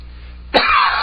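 A single harsh cough from a man with a nasty chest cough, close and sudden over a quiet radio hiss background.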